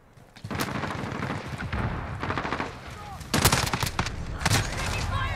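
A DSA-58 battle rifle with an OSW conversion in Call of Duty Modern Warfare is fired at walls in several loud, sharp bursts of shots, separated by short pauses, over a busy in-game background.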